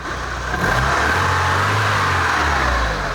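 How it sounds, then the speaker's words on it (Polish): A nearby car engine, newly swapped into the car, idles and then revs up, its rumble rising and holding steady with no talking. "Także silnik działa."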